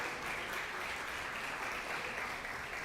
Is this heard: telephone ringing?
no